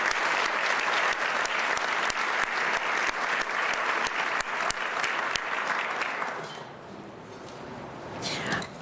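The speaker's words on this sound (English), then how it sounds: "Let's give them a round of applause." An audience at the 47th annual Washington Conference of the Council of the Americas gives a round of applause: dense, sustained clapping from a large crowd that holds steady, then thins and fades near the end.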